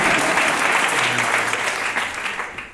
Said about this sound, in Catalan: Un aplaudiment pel sistema.